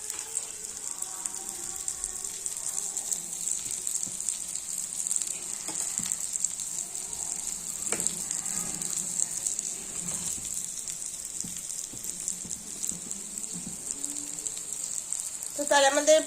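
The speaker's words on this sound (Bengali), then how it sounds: "এই যে মা দেখছি এখানে চিংড়ি মাছের সাথে রাইসগুলো ধীরে ধীরে মিশিয়ে দিচ্ছেন।" Prawn fried rice made with basmati rice sizzles in a pan while being mixed, a steady close frying hiss running throughout with faint stirring scrapes and a brief clatter near the end.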